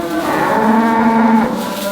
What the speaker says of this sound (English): lots of calves in here, 110 cows, 110 calves down this side.